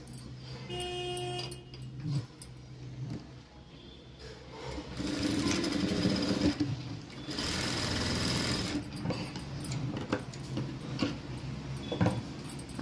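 A sewing machine runs a double stitch along fabric in bursts, its rapid mechanical whirring rising and falling with short pauses, close and clear, while a voice talks at times between runs.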